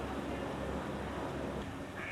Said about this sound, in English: I just got frightened by a duck.